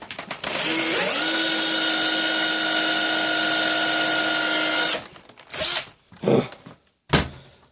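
Power drill whirring steadily for about five seconds while boring a hole through leather for a knife sheath, loud and close, then stopping, followed by a few short handling knocks and rustles.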